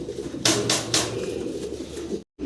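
Low, murmuring pigeon coos repeat softly through the clip, joined by a few brief bursts of broadband noise, then a short moment of silence near the end.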